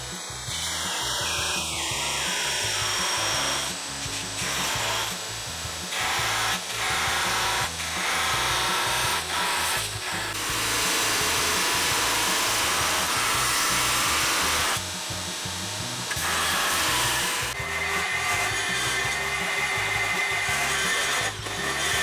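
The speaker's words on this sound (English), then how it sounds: "then clean up everything on the belt grinder" A belt grinder fitted with a small wheel attachment shapes a Winkler RnD replica, giving a steady, loud abrasive whir with grinding rubs and brief pressure dips throughout, alone with no talk.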